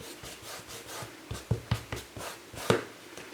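A baby wipe rubs across a gesso-coated timber mixed media panel in a run of short, close scrubbing strokes, several sharper swipes standing out partway through, with no talking.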